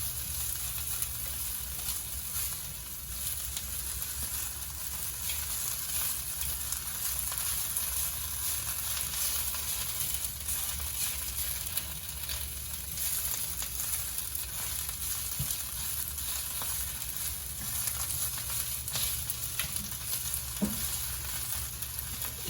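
Kale sizzles steadily in a hot sauté pan, a continuous close frying hiss with occasional stirring and tossing noises, no talking.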